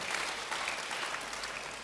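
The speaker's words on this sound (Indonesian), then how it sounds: "Beri tepuk tangan yang baik buat dia." Church congregation applauding during an Indonesian sermon, a dense, steady wash of many hands clapping at once, fairly loud and continuous with no voices standing out.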